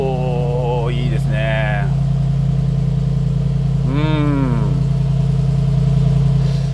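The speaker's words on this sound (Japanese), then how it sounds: "やっぱりこの音聞いちゃうと63だなって、やっぱ V8 だなって思うんですけど" Mercedes-AMG G63 20th Anniversary Edition V8 engine idling just after start, a loud steady low rumble throughout with a brief rise in revs near the start and another around four seconds.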